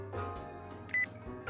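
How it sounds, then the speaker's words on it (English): A phone call alert rings inside the Yakuza video game, a short electronic tone burst standing out over steady game music and background ambience. "Oh, we're getting a phone call."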